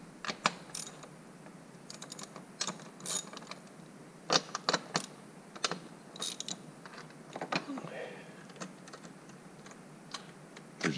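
A hand ratchet works loose the two 10 mm dome-top nuts holding the intercooler shroud on a Toyota Landcruiser, giving quiet, irregular bursts of clicking separated by short pauses, with no talking.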